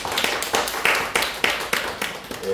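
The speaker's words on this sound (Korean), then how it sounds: "우리 한번 박수 한번 하겠습니다." A church congregation clapping during an Easter Sunday worship service to welcome a new member, several distinct rhythmic claps at a moderate level in a small room.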